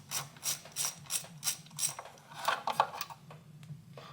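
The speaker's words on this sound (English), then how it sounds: "I have a 10 millimeter socket here. I'm just going to go ahead and remove these nuts here" A ratchet with a 10 mm socket clicks in quick repeated strokes while removing fasteners from a 2003-2007 Honda Accord engine, close and crisp, about a dozen bursts with a brief metallic clink midway.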